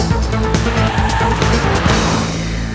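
A 2002 Honda Civic SiR driven hard through a pylon course, with tyre squeal and a strained engine note rising and falling, loud and close.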